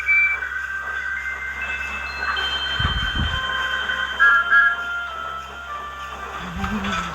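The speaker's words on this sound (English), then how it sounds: "The two engines arrived at the big station and found Annie, Clarabelle, and the other coaches coupled together as a long train" Cartoon steam engines pulling a long train of coaches rumble along with rail noise, faint whistle-like tones and occasional low thumps, with no voices heard.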